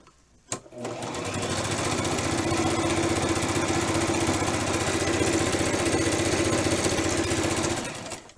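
A sewing machine runs a continuous stitching burst on a Barbie doll dress seam, starting after a click, holding a steady whirring drone for several seconds, then winding down; close and loud.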